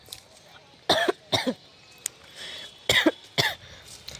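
Several sharp coughs come in two quick bursts, two or three harsh hacks each, close and fairly loud against quiet.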